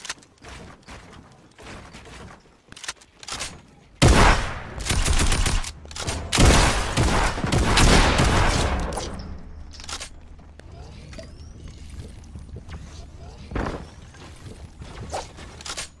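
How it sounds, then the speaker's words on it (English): Shotgun fire in a Fortnite battle royale match: a burst of loud, overlapping blasts in the middle, with quieter footsteps and scattered impacts before and after. "I destroyed him with the shotgun"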